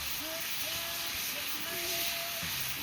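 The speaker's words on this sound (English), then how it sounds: "we're reducing down the alcohol" Chardonnay reduces in a pan with pork chops, giving a steady broadband hiss and sizzle that runs continuously and close, with a faint voice murmuring underneath.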